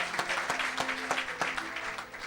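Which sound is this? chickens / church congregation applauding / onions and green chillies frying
church congregation applauding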